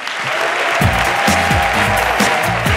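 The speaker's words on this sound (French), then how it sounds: "faites beaucoup d'applaudissements" Steady applause from an audience fills the space, with a voice booming over it through a loudspeaker.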